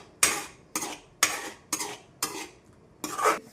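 Pasta stirred in a pan, with six evenly spaced scraping strokes of a spoon against the metal, close and crisp with quiet gaps between them, with no talking.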